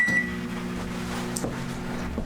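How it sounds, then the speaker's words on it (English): A microwave oven runs with a steady, close electrical hum that holds evenly throughout, with a brief high tone near the start and a small clunk partway through; no one speaks. "And then take this back to the microwave and put it in for about 4 minutes."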